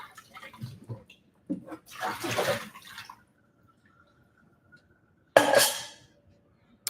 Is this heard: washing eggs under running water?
yes